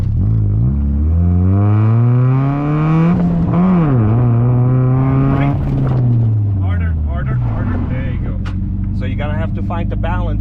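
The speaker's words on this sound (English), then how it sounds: "Give it more revs." A car engine revs hard and loud, its pitch climbing and falling through several surges, with people talking over it.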